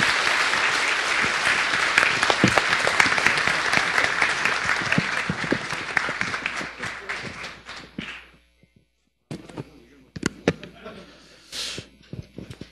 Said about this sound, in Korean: 큰 박수 좀 보내주세요.